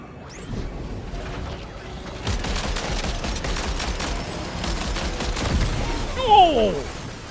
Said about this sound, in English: Quite like to shoot it with my chiral cannon.